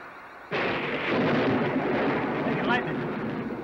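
Thunder from a lightning storm: a sudden loud crack breaks in abruptly, then rolls on as a heavy, sustained rumble that swells slightly and stays loud to the end.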